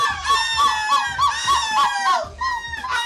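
Several voices at a seagull screeching championship in Belgium imitate seagull screeches, a chain of loud, wavering squawking cries repeated in quick succession, close and strident.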